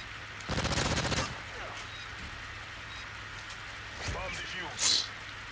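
Gunshots from a gunfight in a video game, a fast burst of automatic fire followed by a few scattered single shots and a sharp crack near the end, with faint background sounds and no talk.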